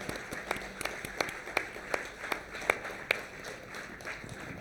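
Light applause for panelists after a conference panel discussion on energy transition and sustainable infrastructure, sounding as sparse, evenly spaced claps at a steady beat, fairly faint in a large room.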